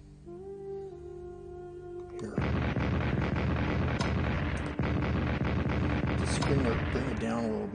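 Heavy artillery booms roll out in Strategic Command WW1, Icarus mod, set in 1916, a sudden loud barrage of dense rumbling blasts following a quieter stretch.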